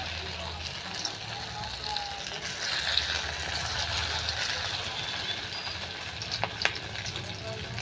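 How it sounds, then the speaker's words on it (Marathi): Corn fritters made from coarsely ground sweet corn kernels fry in very hot oil, giving a continuous close sizzle and bubbling with a few sharper crackles and pops. "आता तेल गरम झालेले सोडून घेत आपण,"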